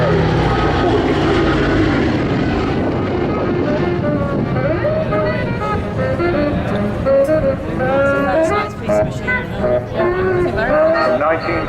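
An aircraft flies over an air show crowd, its loud propeller engine drone filling the whole stretch while a commentator talks over it on the public address.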